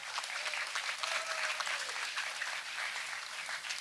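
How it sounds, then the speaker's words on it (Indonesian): Students applaud at a school outreach event on the 2024 election and tree planting, a steady wash of moderately distant clapping lasting throughout with no talk over it. "Tepuk tangan buat Anda."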